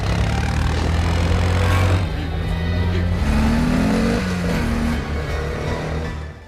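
A four-wheel ATV engine drones loud and steady during a chase, a rough continuous motor hum with a rising whine partway through as it accelerates, no voices over it.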